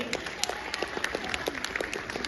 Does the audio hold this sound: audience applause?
yes